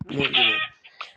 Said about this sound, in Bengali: তো এটা মুরগি মারছি